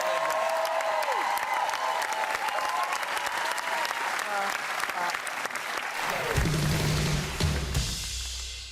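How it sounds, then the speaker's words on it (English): A studio audience applauds steadily on the 2020 '90s special of the music quiz show, a dense, loud wash of clapping throughout, with live music and voices rising near the end. "would you please give a round of applause?"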